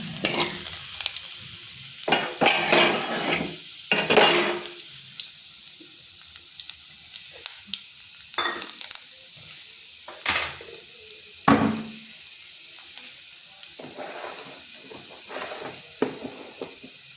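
Garlic frying in a pan at home while cooking mung and masoor dal: scattered sizzling bursts and stirring scrapes come and go over a quiet background, with no one speaking.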